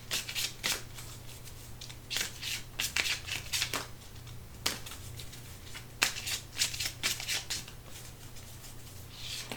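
Oracle cards being shuffled by hand, a soft papery riffle and flutter repeated in short bursts with pauses between, close and quiet over a faint steady hum.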